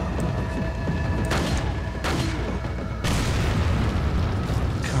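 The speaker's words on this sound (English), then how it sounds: "Fuck it, another grenade." A grenade explosion in Resident Evil 4 sounds as a deep rumbling boom over continuous loud low-frequency noise, with several sharp broadband bursts hitting in succession over a few seconds.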